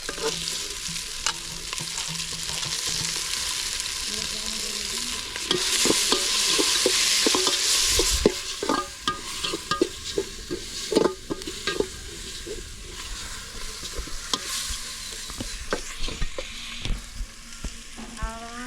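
Tomato, coriander and mint sizzle in a pan with ginger garlic paste as they are sautéed and stirred, a steady hiss rising louder midway, then repeated spoon scrapes and clacks against the pan, close and without talk.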